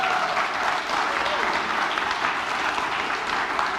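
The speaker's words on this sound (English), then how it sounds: "A round of applause." A church congregation claps warmly to welcome a new minister. The dense, sustained round of applause fills the room at an even, fairly loud level from start to finish.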